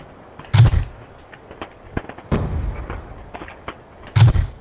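Gunfire in a video game's gun game mode, two loud, sharp booming shots near the start and end with smaller cracks and thuds between, no talking.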